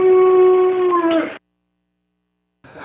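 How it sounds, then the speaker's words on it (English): A 13-year-old golden retriever howls in one loud, sustained, slightly falling wail lasting over a second, followed by silence and then a brief rougher sound at the end. "we have with us Honeybun, who is a 13-year-old golden."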